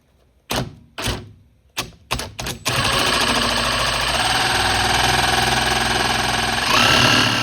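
A Milwaukee M18 Fuel Sawzall reciprocating saw, model 2821-20, gives several short loud bursts, then cuts steadily through wood with a continuous buzzing rasp, close and loud throughout.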